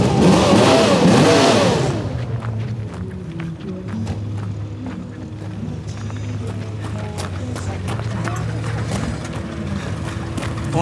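Nissan Skyline Hakosuka fitted with a 700 hp 2JZ engine, loud close revs rising and falling at the start, then settling into a rough, lumpy idle with sharp crackles and pops.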